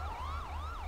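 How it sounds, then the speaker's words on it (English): Ambulance siren in a GTA roleplay video game, a loud wailing tone sweeping up and down repeatedly over a low engine hum, heard alone without talk. "I can hear the sirens of the medics, just hold on a little longer"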